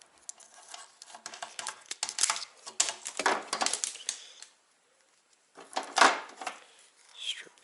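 Snipping and handling of a snowmobile LED taillight wire harness from a Ski-Doo XS light, close crisp cuts and rustling plastic in uneven bursts, with a brief silent pause before a few louder snaps.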